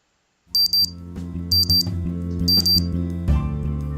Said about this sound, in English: my watch beeps, indicating it is now 8 o'clock in the evening